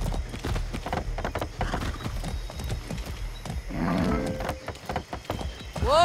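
Galloping horse hooves in Far Cry 6, rapid rhythmic clopping up close with a snorting neigh toward the end over a rumbling game soundscape.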